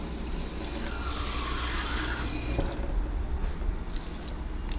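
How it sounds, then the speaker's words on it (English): Hot water runs steadily from a kitchen tap set to its hottest setting, a continuous close splashing rush into a sink with no talk. "I'm just going to grab the hot water from there."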